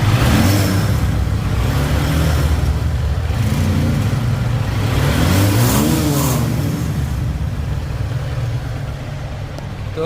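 A 2018 Honda CB Trigger motorcycle engine revs close by, its pitch rising and falling in a few swells over a steady running drone, loud and alone without voices.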